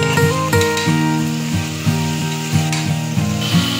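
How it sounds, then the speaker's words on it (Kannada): Tomatoes fry in oil in a pressure cooker pot while preparing paneer biryani, giving a continuous close sizzle under a stepping melodic tone, with no talk. "ಟೊಮೆಟೊನು ಸ್ವಲ್ಪ ಚೆನ್ನಾಗಿ ಫ್ರೈ ಆಗಲಿ, ಹಸಿ ಸ್ಮೆಲ್ಲೆಲ್ಲ ಹೋಗೋ ಹಾಗೆ ನೀಟಾಗಿ ಫ್ರೈ ಆಗಬೇಕು."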